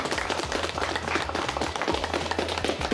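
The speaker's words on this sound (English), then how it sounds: "Big round of applause for Valley View." Audience applause for the Valley View quiz bowl team at a state quiz bowl championship, a dense, steady wash of many hands clapping close and loud, with faint crowd noise underneath.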